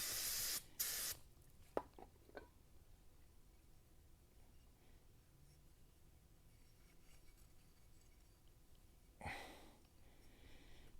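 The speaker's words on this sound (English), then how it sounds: "let me hit this with some degrease. Well, it's brake clean." Two short, loud hisses of brake cleaner sprayed from an aerosol can open a quiet garage scene, followed by faint clicks and a later sharp burst of noise.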